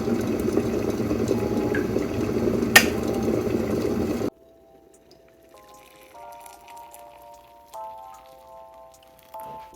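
Boiling water is poured for a cup of double milk oolong tea, a steady, hissing splash lasting about four seconds that stops abruptly, followed by quiet, soft tonal notes.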